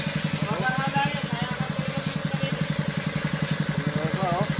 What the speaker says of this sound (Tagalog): Kakalagay tibay talaga ang makinang Honda, no?